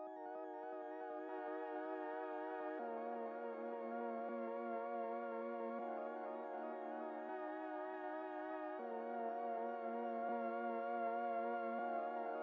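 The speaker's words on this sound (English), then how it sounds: "Next thing I added with this organ, but I put it up an octave so it sounds like this." An organ sample pitched up an octave plays sustained chords that shift every few seconds, a steady, faint vintage-textured tone with no other sounds.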